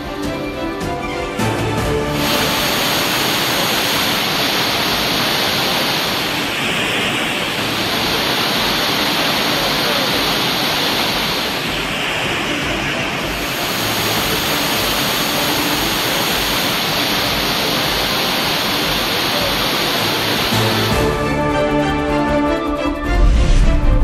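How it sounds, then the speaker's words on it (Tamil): The main waterfall at Courtallam, flooded after heavy rain, gives a loud, unbroken roar of crashing water that holds steady for over twenty seconds. "கனமழையால் குற்றாலம் பிரதான அருவியில் 3வது நாளாக வெள்ளப்பெருக்கு."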